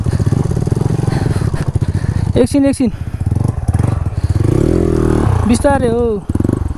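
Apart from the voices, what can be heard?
modified Honda dirt bike engine running and revving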